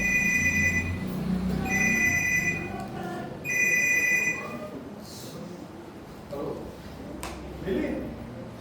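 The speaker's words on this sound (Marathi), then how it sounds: "तुझा फोन आहे, घे ना" Telephone ringing in a home, three clear electronic ring bursts in the first half, fairly near, followed by quieter room noise and faint background movement.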